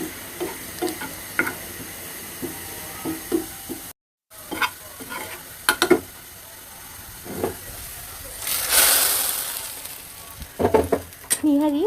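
Fried onion tempering poured over a pot of beef trotter nihari gives a burst of loud sizzling and hiss, with scattered stirring clicks and knocks before and after, and a brief gap of silence early on.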